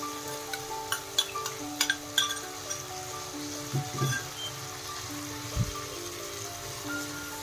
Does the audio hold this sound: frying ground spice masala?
yes